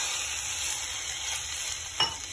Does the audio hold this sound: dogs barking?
no